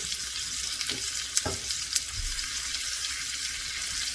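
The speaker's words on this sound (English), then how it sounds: "I'll flip it upside down and sideways just to get the sear going. Sear all the sides." Lamb chops searing in a hot pan hiss with a constant, bright sizzle, close and fairly loud, with a few brief clatters and bumps as the meat is turned.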